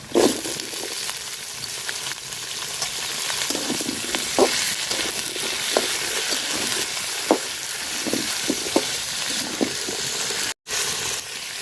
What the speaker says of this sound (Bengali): তো পেঁয়াজটা লাল লাল করে বাজিয়ে নিচ্ছি আলু আর ডাটা দিয়ে দিলাম